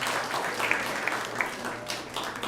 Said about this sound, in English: So let's give a big round of applause to everyone who has joined us here tonight.